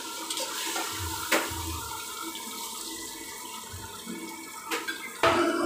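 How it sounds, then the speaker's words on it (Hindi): Stock water poured into a pan while cooking paneer chilli in a kitchen, a steady running, splashing wash of liquid that carries on throughout with a few brief clatters and no talk. "तो हम इसमें स्टॉक वाटर यूज़ करेंगे।"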